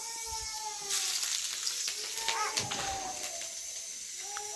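Food sizzles in a pan in a home kitchen while ingredients go in, with a soft steady hiss and a sharper burst of frying after about a second, overlaid by a voice and faint background tones.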